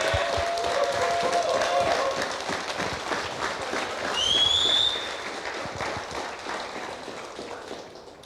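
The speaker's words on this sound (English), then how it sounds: "Big applause for yourself." Audience applause at a sports championship tournament, steady moderate clapping across the hall with a brief whistle-like tone and crowd murmur, tapering gradually.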